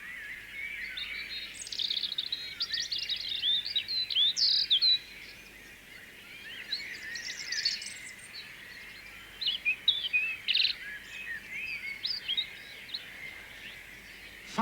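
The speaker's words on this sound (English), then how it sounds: "Half a dozen male robins are singing defiance at each other from the safety of the yew" Several male robins sing from yew bushes in a garden, rival birds trading bright, high warbling phrases in overlapping bursts with brief pauses, clear and fairly close, with no voices.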